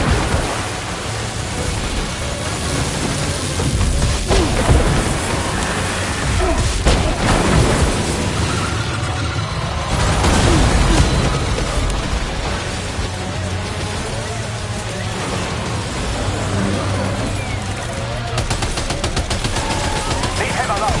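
Gunfire from the video game Death Stranding 2 crackles in repeated rapid bursts through a dense, noisy mix, with talk running over the shooting throughout.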